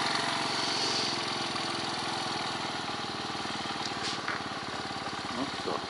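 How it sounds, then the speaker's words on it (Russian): A Bajaj Boxer motorcycle engine, just kick-started on the first try, idles steadily with a close, even putter throughout, with faint voices in the background. "с кикстартера должен с второй попытки завестись. Завелся с первой."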